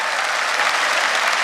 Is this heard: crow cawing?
no